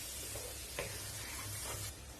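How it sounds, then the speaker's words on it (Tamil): Egg podimas gets stirred with chicken gravy in a hot pan: a soft continuous sizzle with a brief scrape of the spoon partway through, close and steady, with no voices. "இது நல்லா மிக்ஸ் பண்ணி விட்டுறலாம்."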